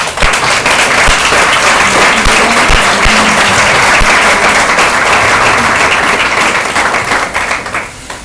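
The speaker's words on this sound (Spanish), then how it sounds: "¿Puedes darle un aplauso a él?" A church congregation claps loudly and steadily, filling the room with dense applause that fades slightly toward the end.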